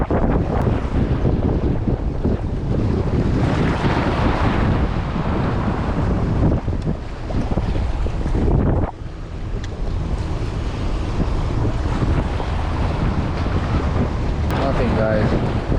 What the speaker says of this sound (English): the wind is kicked up here